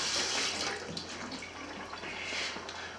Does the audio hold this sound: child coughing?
no